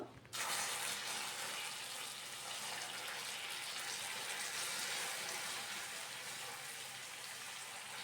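A sudden loud hiss as water hits caramelised sugar in the hot pan, settling into a steady bubbling sizzle that continues without pause.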